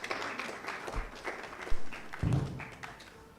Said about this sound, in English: For all their efforts for the continent and the nation, I thought a round of applause